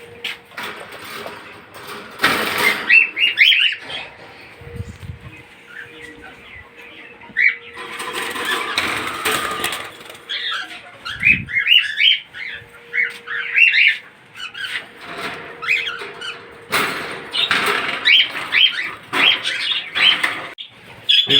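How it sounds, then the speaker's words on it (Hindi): Pet birds and parrots squawk and chirp while feeding on fresh corn, harsh squawks and bright chirps coming in repeated bursts with rustling and fluttering between them, close and fairly loud throughout. "अब मैं इन्हें अपने बर्ड्स को डालता हूँ। चलें देखते हैं और बर्ड्स कितने शौक़ से खाते हैं।"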